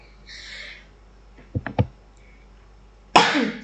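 A woman gives a few short coughs in quick succession, fairly close, followed after a pause by a louder, harsher cough.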